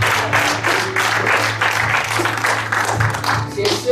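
A congregation of women in a church applauds and cheers loudly, with dense, steady clapping and raised voices running through the whole stretch.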